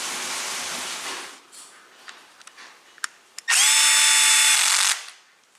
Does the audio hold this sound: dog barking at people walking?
no